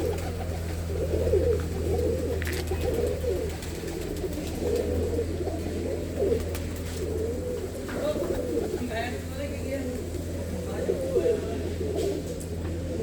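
Many pigeons coo inside a large netted aviary, a steady chorus of low rolling calls near and far, with someone speaking over the birds at times.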